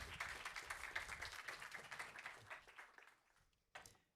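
A conference audience applauds in a faint, dense patter of clapping that thins and fades away over a few seconds, with a last few scattered claps.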